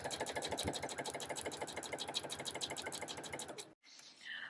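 A sewing machine stitches a fur clutch bag in a fast, steady run of close, even pulses for nearly four seconds, then stops abruptly. The sound is close and clear, with no talking.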